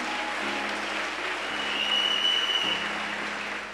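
A church congregation applauding and cheering, a dense, steady wash of clapping with voices mixed in, sustained and fairly loud throughout.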